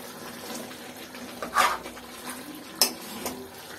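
Tomato paste is stirred into chicken karahi in a pot, with soft wet scraping and two brief metallic clinks of a spoon against the pot over a quiet kitchen background.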